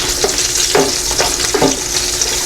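Pork pieces for crispy pork karahay fry in hot oil in a pan, a steady loud sizzle broken by a few short scraping, clattering bursts as the pieces are flipped.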